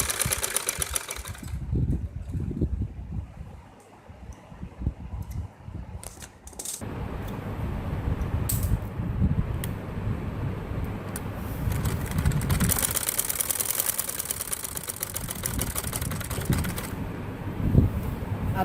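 Sewing machine stitching along the bottom edges of a salwar trim with lace, a steady close mechanical whir running continuously with brief pauses and shifts in speed.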